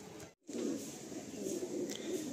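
Madrasi pigeons cooing in a loft, low throaty coos close by and fairly soft, with a short silent gap near the start and a faint chirp later.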